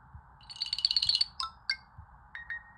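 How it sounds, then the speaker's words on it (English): A Samsung Calendar alert tone rings out on a phone: a bright, quick chiming melody about a second long, then a few short separate pings trailing off, clear and close with faint background noise. "We can change alert sound."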